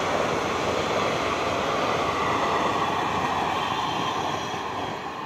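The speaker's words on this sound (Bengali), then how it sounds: "এটা বন্ধুরা বালুরঘাট কলকাতা তেভাগা এক্সপ্রেস।" Balurghat–Kolkata Tebhaga Express passenger train passing close by, a loud steady roar of wheels and carriages on the rails that holds for several seconds and eases slightly at the end.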